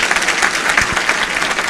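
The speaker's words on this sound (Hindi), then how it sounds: "जिनवाणी चैनल के डायरेक्टर नीरज जी के सम्मान में एक बार जोरदार तालियां जरूर बजा दें" Audience at a Jain religious discourse applauding, a dense, steady burst of clapping from a crowd filling the short moment without any voices.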